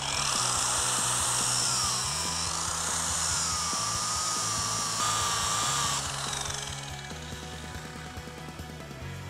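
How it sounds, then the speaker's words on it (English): A variable-speed power sander runs steadily at mid-range while it sands off the end of a workpiece. The loud whirring holds throughout, and its pitch and load shift slightly near the end. "So I'm going to start at about mid-range, and then I'm going to sand off the end here."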